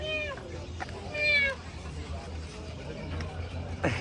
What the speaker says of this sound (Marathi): कॅट कॅट ते काय